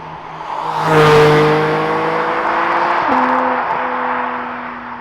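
A 2021 Porsche 718 Spyder with its GT3-derived engine revving hard toward the 8,000 RPM redline, loud and close, the rising howl broken by two rapid PDK upshifts that drop the pitch sharply each time.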